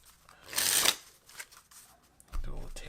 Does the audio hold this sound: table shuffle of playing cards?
yes